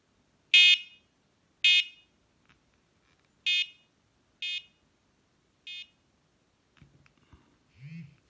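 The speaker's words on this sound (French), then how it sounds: "Là, je vais pouvoir le mettre en mode vibration." A carp fishing bite alarm receiver set to vibration mode gives five short, evenly spaced electronic buzzes, fading across the series, followed by faint handling clicks and a brief low rumble.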